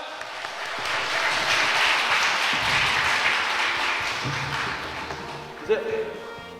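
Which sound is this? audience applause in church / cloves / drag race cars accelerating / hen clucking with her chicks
audience applause in church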